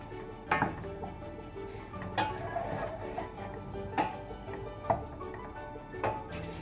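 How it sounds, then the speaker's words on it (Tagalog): A utensil stirs pancit canton in a pan, scraping and clinking in irregular strokes, with sharp metallic taps every second or so. "And then, hahaluin natin."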